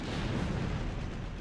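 Massed artillery firing in the strategy game Supreme Ruler Ultimate, a steady dense rumble of booming shots blending into one continuous low roar for a brief moment.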